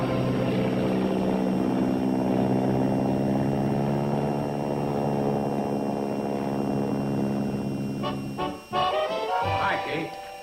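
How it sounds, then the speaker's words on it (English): A crop duster plane drones loudly and steadily overhead with a strong propeller hum that holds for about eight seconds, then breaks off into a brief clatter near the end. "You're a crop duster. You got to get in your plane and save this valley."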